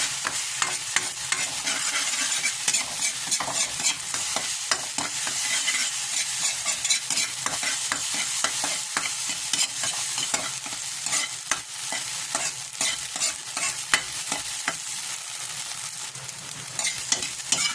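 Egg frying in a pan is stirred and broken apart with a utensil, producing continuous quick scraping taps over a steady soft sizzle, close and moderately quiet throughout.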